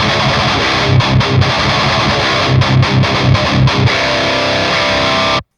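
An electric guitar runs through a Tube Screamer-type overdrive pedal into thick distortion with the tone cranked all the way, playing loud, aggressive chugging riffs with choppy rhythmic breaks before cutting off sharply.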